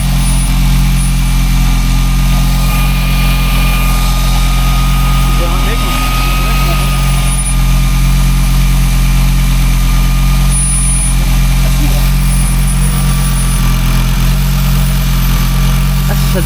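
A tuned Audi engine idles steadily and loudly up close, a constant low rumble with a faint hiss of vacuum noise above it, unbroken throughout.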